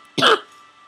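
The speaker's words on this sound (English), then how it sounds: "Gosh, cough's terrible." A single short, close cough rasps out, loud and abrupt, then fades into faint room hum.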